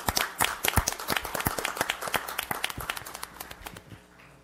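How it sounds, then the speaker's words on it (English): Audience members at a city commission meeting clap for a city worker who has stood up, a brisk burst of separate, closely spaced hand claps that thins out and fades toward the end. "You deserve a round of applause"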